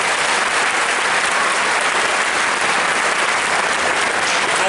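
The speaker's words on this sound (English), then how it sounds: "So let's give them one more round of applause" An audience at a middle school 8th grade moving-up ceremony applauds its graduating students in a continuous, dense wash of clapping that holds steady and loud throughout.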